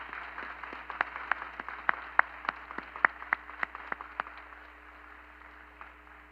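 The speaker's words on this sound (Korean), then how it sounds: "박수로 환영하겠습니다." A church congregation gives sparse, scattered claps to welcome missionaries and a family member at a sending service, individual hand claps standing out over a quiet, hollow room tone, thinning out toward the end.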